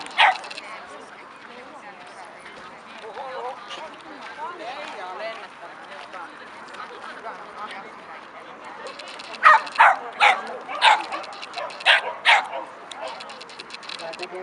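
A small dog yips and barks in quick, high bursts, with a voice talking underneath throughout.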